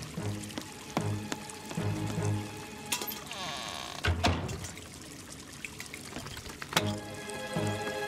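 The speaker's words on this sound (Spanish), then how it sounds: "Usaré el cubo para achicar agua." Cartoon water being bailed out of a leaking boat with a bucket, heard as repeated pouring and splashing scoops, close and fairly loud, with a few sharp clatters and no talking.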